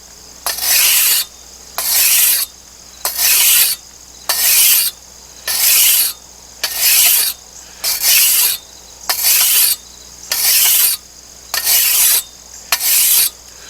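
An old hand weeding tool, its blade worn thin in the center, has its bevel sharpened with a file: about a dozen even, loud rasping strokes in a steady rhythm, each followed by a short pause.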